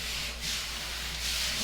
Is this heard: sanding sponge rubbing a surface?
yes